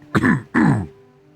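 Two short, gravelly throat clearings in quick succession, close and fairly loud, with silence after.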